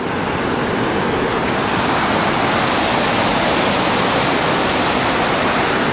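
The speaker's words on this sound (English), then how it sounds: "I just was inspired to come up and look at this waterfall" Waterfall on Linton Creek swollen by snowmelt, a loud, close, unbroken roar of crashing water with no voices.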